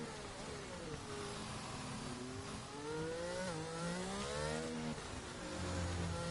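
Race car engine in a racing video game, V6 revving continuously as the throttle is feathered around a lap at Monaco, pitch rising and falling in smooth sweeps, loud and steady with no talk.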